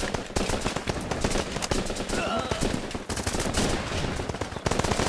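Dense battlefield gunfire in the Running With Rifles game at a power plant, with many rifles cracking in overlapping bursts from near and far, continuous for several seconds, and a voice occasionally audible beneath.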